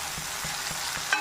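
Cabbage curry with onion, capsicum and tomato sizzles steadily in a pan, with faint rhythmic stirring scrapes and a brief metallic clink near the end; no voices.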